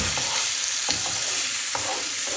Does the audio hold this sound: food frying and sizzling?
yes